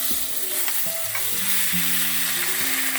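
Steak fries in a hot pan, giving a constant bright sizzle with occasional light ticks and steady low tones underneath, close and even with no one speaking.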